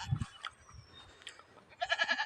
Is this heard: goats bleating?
yes